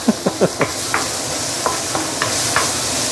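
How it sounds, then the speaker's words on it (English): Ingredients being slowly sautéed for fish in a pan, with a spoon scraping and tapping in a quick run of stirs at first, then a few sparser strokes over a soft, continuous sizzle. "I'm going to spend about 2-3 minutes slowly sauteing this ingredient"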